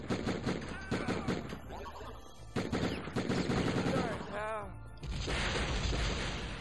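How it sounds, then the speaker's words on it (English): An explosive shotgun being fired in the Die Hard Trilogy video game: loud, sharp blasts come in quick clusters with brief gaps between them, and a voice briefly sounds among the shots. "Oh, it's explosive shotgun"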